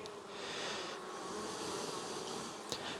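Dense, steady hum of honey bees buzzing across a brood frame lifted from a hive, close and continuous throughout with no talking.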